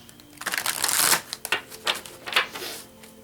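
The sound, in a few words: drawing oracle cards from a deck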